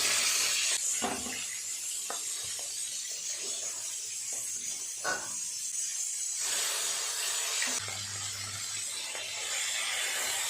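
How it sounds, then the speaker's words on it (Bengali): Fish frying in a pan of oil gives a continuous hiss and sizzle, with occasional clatters and scrapes of handling throughout. "বাকি মাছগুলো একইভাবে ভেজে নিলাম"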